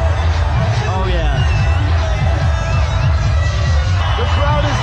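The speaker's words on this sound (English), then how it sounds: "The crowd is going wild." A dense crowd roars and cheers without letup at the India–Pakistan border ceremony, a loud, close wall of massed voices and babble.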